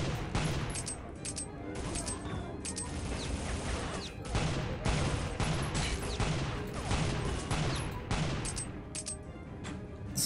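Rapid pistol and automatic gunfire from a Glock and other weapons in the shooter game Soldier of Fortune, dense repeated shots and bursts filling the scene at steady loudness.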